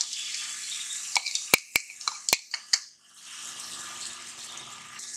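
Jaggery is added to hot melted ghee in a kadhai while making til laddu, giving a steady sizzle broken by a quick run of sharp clacks and scrapes as it is stirred, before the sizzle settles again.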